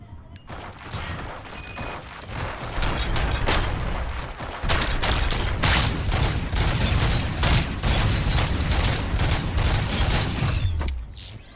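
Sustained gunfire and booming mechanical impacts from the RoboCop video game, a loud dense barrage of shots with creaking machinery that rolls on for several seconds before cutting off abruptly.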